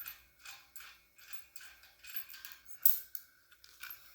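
Faint rapid clicking of a ratchet wrench tightening a small 3/8 bolt to 40 pounds, in uneven bursts of short strokes with one sharper click near the end and no talk.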